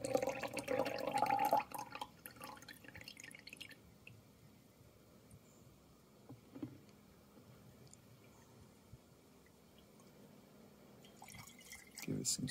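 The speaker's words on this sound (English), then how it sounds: "we can just pour this water back in here" Water poured back into a container while rinsing crushed azurite mineral for paint pigment, a splashing, dripping burst loudest at the start, then a quieter trickle with faint drips and a second splash near the end.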